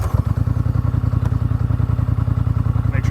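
A Polaris Sportsman XP 1000 ATV fitted with an MBRP exhaust idles close by with a steady, rapid, thumping exhaust pulse that stays loud and even throughout this short stretch.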